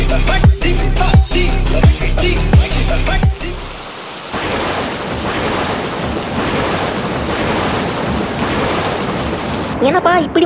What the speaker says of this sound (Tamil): என்னப்பா இப்படி மழை பெய்யுது